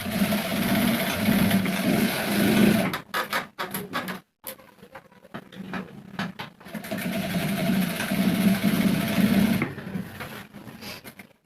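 A sewing machine stitches a belt onto a pair of pants in quick bursts of rapid mechanical whirring, stopping and restarting a few times with short pauses between runs.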